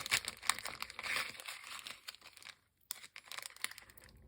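A packet of large black bead chain eyes for fly tying is opened up close, with crinkling plastic and tearing, then quieter handling and a few light crackles.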